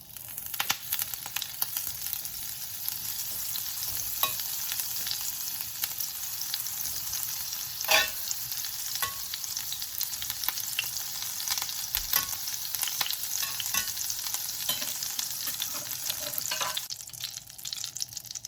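Oil and a tablespoon of unsalted butter sizzle steadily in a hot pan, a continuous bright crackle with occasional sharper pops, close and fairly quiet, with no voices.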